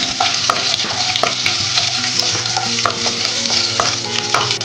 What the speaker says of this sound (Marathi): मोहरी, कढीपत्ता, शेंगदाणे, मिरची, जिरे हे सर्व मिक्स करून घेऊयात